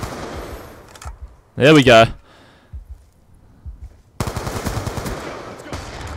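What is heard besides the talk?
gunfire in the video game Black Ops 2 on Xbox One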